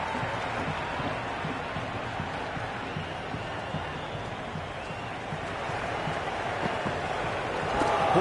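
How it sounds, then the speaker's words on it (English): Continuous roar of a stadium crowd in the Cricket 26 video game, a dense, steady wash of cheering and noise, fairly faint, with no distinct individual voices. "The crowd is electric right now."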